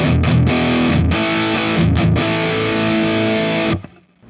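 An ML Sound Lab Amped Oracle guitar amp simulator on its Lite engine produces heavily distorted electric guitar, with loud, dense chugging chords and brief palm-muted gaps before cutting off and ringing out.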